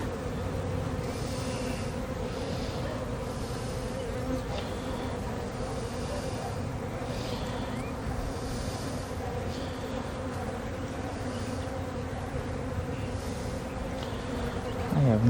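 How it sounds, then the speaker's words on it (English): A dense swarm of bees buzzes continuously around a beehive feeder as it is filled, a close, steady drone lasting throughout with no talking. "Bees trying to drink it as it's pouring in."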